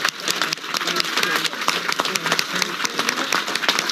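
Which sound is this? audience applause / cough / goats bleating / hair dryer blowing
audience applause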